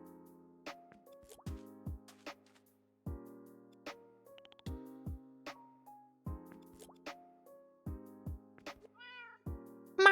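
A cat meows in a string of short, separate calls, some rising and falling, mixed with soft plopping and dripping sounds at a moderate, close level, with no talking.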